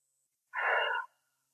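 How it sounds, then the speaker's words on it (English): A single deep breath, drawn in or let out over about half a second, close and clear, alone in quiet with no talking. "So it begins with taking a deep breath"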